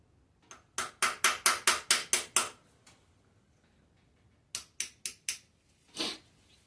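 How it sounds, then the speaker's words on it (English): A small hammer taps out a broken stud screw in sharp, close, metallic strikes. A quick run of seven taps is followed by a pause, then four more and one final blow. "let's see if the little hammer will work for this"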